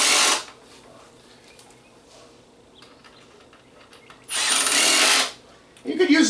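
A power drill drives fasteners home while an uncoiler is built for underground gas piping, two loud close whirring bursts about a second each, with a third starting at the end and quiet workshop sound in between.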